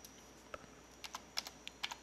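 Keys tapped on a computer keyboard, a quiet close run of about a dozen light clicks coming in small irregular clusters, with no voice.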